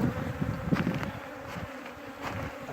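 Honeybees buzzing around a queenless beehive in farming country, a close, fluctuating swarm drone with individual bees passing near, loud at first and easing slightly.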